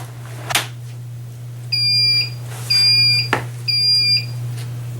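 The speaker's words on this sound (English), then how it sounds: "Well, I hear a beep" Electronic beeps from a treadmill being powered on after drying out, three steady high tones in a row, fairly loud over a constant low electrical hum, with a couple of clicks and knocks before and between them.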